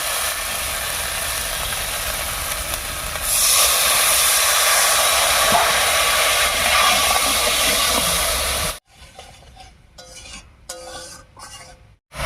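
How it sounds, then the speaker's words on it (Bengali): Spice paste cooked down with water in a hot pan for a vegetarian potato and eggplant curry, giving a loud, steady steamy hiss that swells midway and then cuts off, followed by quieter intermittent sizzling and clinks. "এবারে মশলা বাটা জল দিয়ে কষিয়ে নেব"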